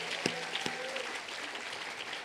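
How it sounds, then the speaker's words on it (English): An audience applauding and cheering in a hall to welcome a newly enlarged class of incoming students at a fall executive briefing, a steady wash of clapping with a few sharper claps standing out. "I think we ought to have a little cheer to welcome these students."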